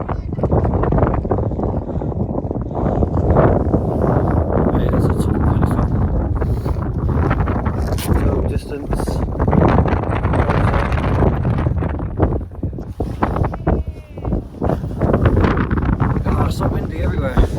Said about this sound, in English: It's so windy everywhere.